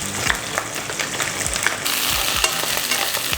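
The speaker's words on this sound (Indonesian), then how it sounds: "kita akan tumis bawang-bawang dan juga jahe" Onions and ginger sauté in a hot pan, a continuous bright sizzle punctuated by the scrape and clack of stirring, close and fairly loud.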